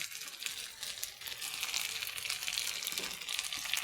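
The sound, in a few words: potatoes frying with onion, garlic and green chili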